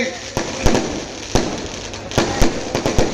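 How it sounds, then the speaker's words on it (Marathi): Firecrackers burst in sharp, loud bangs at irregular intervals at a political rally, several quick pops clustering together over a noisy outdoor background. "फटाके बंद करा, फटाके"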